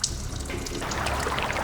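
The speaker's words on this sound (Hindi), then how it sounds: "पानी बहने की आवाज आ रही है।" Water runs and splashes continuously nearby, like a tap pouring, in a tense scene from a crime drama; the flow is steady and moderately loud with no voices over it.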